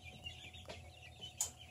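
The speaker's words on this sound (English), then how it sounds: "They're hungry chickens" Hungry backyard hens, among them a Rhode Island Red, Wyandottes and a Barred Rock, give a few soft clucks with two sharper calls over steady outdoor background noise.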